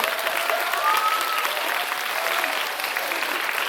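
An audience at a live movie talk event gives sustained, even applause, dense clapping filling the room at a steady level from start to finish.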